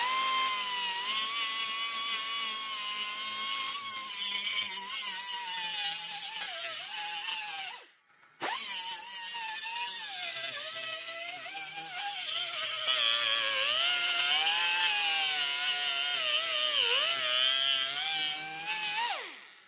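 A power tool grinds steadily to blend a cutoff patch piece to a matching radius, a loud continuous high whine with slight pitch wavering, one short break partway through, no talking.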